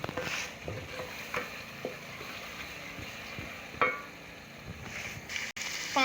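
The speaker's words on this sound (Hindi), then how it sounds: "अदरक का पेस्ट हम लोगों ने शामिल कर दिया, इसको अच्छे से हम लोग भून लेंगे" Ginger paste masala frying in a pan, a soft continuous sizzle broken by repeated scraping clicks of a spoon stirring, close and alone.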